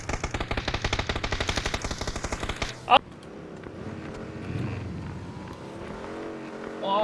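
Rapid machine-gun fire in a battle royale video game rattles in a quick steady burst for several seconds, then stops abruptly with a sharp crack, leaving quieter game ambience and faint vehicle noise.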